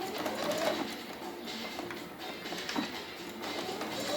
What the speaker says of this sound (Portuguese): passa uma costurinha bem no meio